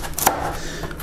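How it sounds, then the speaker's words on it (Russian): A single sharp knife chop on a cutting board as carrot is sliced into medium-thick pieces for a Korean-style pike dish, one distinct impact against low room hum. "Морковку точно так же нарезаем."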